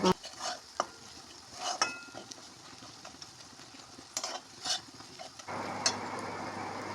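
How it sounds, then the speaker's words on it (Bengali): A spatula stirs and scrapes through pieces of chital fish frying in a pan for a taro stolon dish, with intermittent clattering strokes over a low, continuous sizzle. "তারপরে আর একটু ভালো করে ভাজা করে নেব"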